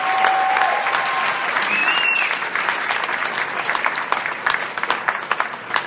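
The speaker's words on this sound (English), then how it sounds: "Please give a great round of applause." A crowd at a campaign stop inside a wire manufacturing plant breaks into sustained applause, a thick, steady roar of clapping that thins into scattered, sharper individual claps toward the end.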